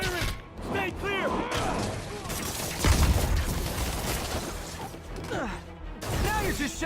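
Gunfire in the video game Spider-Man: The Last Stand, rapid cracks and crashing impacts mixed with shouted voices and game effects, dense and continuous throughout.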